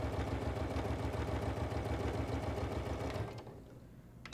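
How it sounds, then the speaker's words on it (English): A Janome sewing machine sews a straight stitch at a 2.4 stitch length with a fast, even, mechanical needle rhythm close by. It runs steadily and then slows and stops near the end. "And I am going to sew right on that line."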